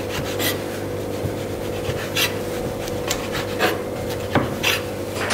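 A knife cuts the edges off a grilled chicken bread sandwich, with soft scraping strokes and light taps against a board, close and quiet over a faint background hum.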